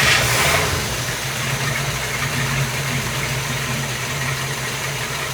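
Twin big block engines of an old yacht running together, a loud steady low rumble at idle, slightly louder at the start before settling into an even drone.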